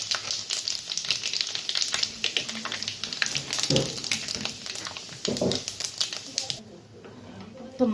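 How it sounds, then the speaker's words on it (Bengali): Dried red chillies and panch phoron spices crackle and sizzle in hot mustard oil, with sharp rapid popping bursts and a continuous fry that quiets toward the end; clatter of stirring mixes in. "তো দিয়ে দেব শুকনো লঙ্কা, তো দিয়ে দেব পাঁচফোড়ন।"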